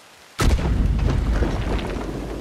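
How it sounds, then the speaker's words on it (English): A loud explosion in the Red Dead Redemption 2 video game bursts in suddenly after a quiet moment, followed by a heavy rumbling roar that lingers and slowly fades over the next two seconds. "Explosions!"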